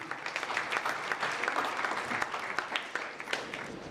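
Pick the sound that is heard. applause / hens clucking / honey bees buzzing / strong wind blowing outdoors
applause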